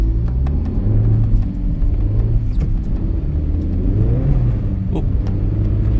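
A 2023 Acura Integra Intense in sport mode on winter snow tires pulls away hard from a start on snowy road, its engine giving a steady, close low rumble that rises slightly as it revs through the whole stretch.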